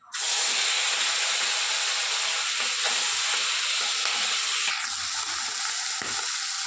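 Pakal fish fries in hot oil, starting abruptly into a loud, continuous hissing sizzle that stays steady, with a couple of low knocks near the end and no speech.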